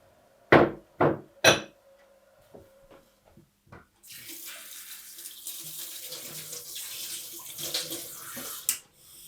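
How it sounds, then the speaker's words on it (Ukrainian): A few sharp knocks and clanks, then water runs steadily from a tap into a container for several seconds, close by. "Ви на глаз наливаєте воду?"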